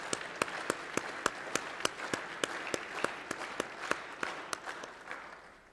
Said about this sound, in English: I can feel that strength in the power of the applause from the team up there.